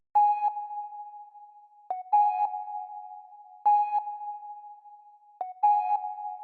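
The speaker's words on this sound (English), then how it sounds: "for this we are using the pan flute preset in Purity" A breathy synthesized pan flute from the Purity plugin's pan flute preset plays sustained notes with soft attacks, each phrase starting with a brief chiff, moderately loud and alone.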